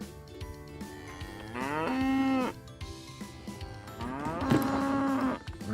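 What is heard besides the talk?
cow mooing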